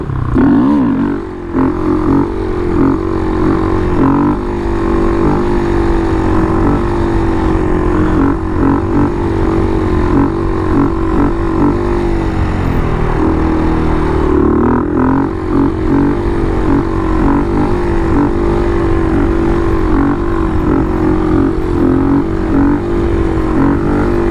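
A Honda Grom motorcycle engine labours up a hill in second gear, a loud, continuous droning buzz that swells and dips slightly as it strains, heard close for the whole stretch.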